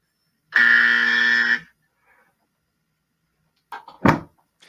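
A debate time buzzer sounds once, a steady tonal buzz lasting about a second, followed after a pause by a brief burst of sound.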